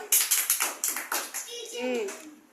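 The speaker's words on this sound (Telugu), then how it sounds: "వెరీ గుడ్, క్లాప్స్ కొట్టు." Children clap in a classroom counting lesson, a quick run of about a dozen close claps, followed by a young voice speaking.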